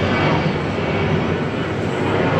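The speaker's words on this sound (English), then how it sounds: "the Norwegian Boeing 737 minus 800 has successful took off" A Norwegian Boeing 737-800 takes off from runway 14 at Cologne-Bonn Airport, its jet engines a loud, dense, unbroken roar filling the whole short stretch without talk.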